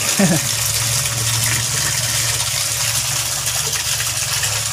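Water pours steadily into a koi pond being topped up with fresh water, a continuous near gush with a low splashing rumble, while a voice talks faintly underneath.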